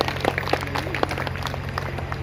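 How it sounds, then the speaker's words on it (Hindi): Steady crowd applause at an outdoor Ramlila stage event, a dense patter of many hands clapping continuously under a low electrical hum. "जोरदार तालियों से उनका अभिनंदन।"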